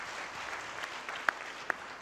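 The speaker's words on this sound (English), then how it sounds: "A round of applause for Richard" Conference audience in a hall applauding, a steady patter of many hands clapping at moderate distance with a couple of sharper individual claps, brief and without talk.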